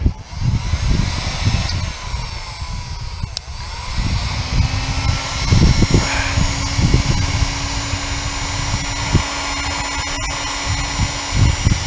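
A frozen tractor engine is cranked in the cold, a rough, rumbling mechanical drone with uneven bursts that runs on throughout, fairly loud and close.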